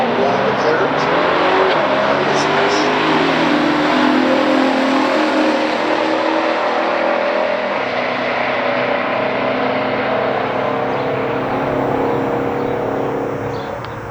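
A 1971 Chevrolet Chevelle 454 ragtop and a 1969 Oldsmobile Cutlass, both factory stock, roar down a drag strip in a loud, sustained full-throttle run, engine noise holding steady before easing off at the end, with crowd or announcer voices underneath.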